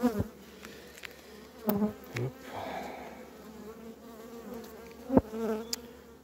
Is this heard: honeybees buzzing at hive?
yes